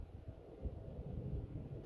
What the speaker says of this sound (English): It's all windy right now.